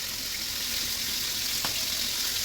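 Steady, loud sizzling and crackling of food frying in hot oil, continuous throughout with a faint clink partway.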